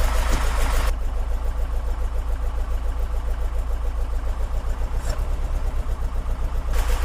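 A Porsche 914 engine fitted with dual Weber carburetors idles around 900 to 1,000 rpm, a steady close-up rhythmic chugging throb with loud broadband intake hiss at first, then a lumpy even pulse.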